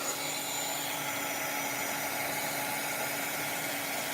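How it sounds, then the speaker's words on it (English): A craft heat tool blowing hot air onto a paper flower, a constant close, even rushing whoosh with a faint steady whine, unbroken throughout. "Here is my heat tool. Let's give it a little heat first."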